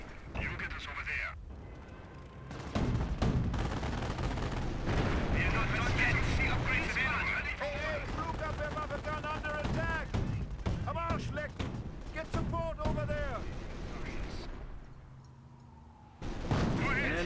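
Artillery and machine-gun fire fill a Company of Heroes video game battle at Wolfheze during Operation Market Garden, with dense rattling bursts and heavy booms running continuously and voices calling out over them.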